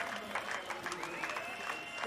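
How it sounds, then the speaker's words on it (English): A cricket crowd at a West Indies women's T20 international against Bangladesh applauds in a standing ovation, a steady wash of clapping and cheering at moderate distance over the 200 total. "And standing ovation. The crowd in here have enjoyed it thoroughly."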